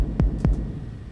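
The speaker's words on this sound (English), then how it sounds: "Now I've got also this ultra beat doing a simple kick drum pattern." Two deep, booming kick drum hits from an Ultrabeat drum machine in a simple pattern, close and alone, with a low decaying thump after each and a short quiet tail.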